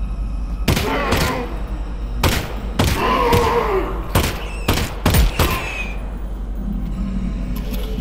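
Repeated gunshots fired at an enemy in the VR game Half-Life: Alyx, loud broadband bursts spaced irregularly over several seconds, some in quick doubled pairs, over a steady low in-game hum.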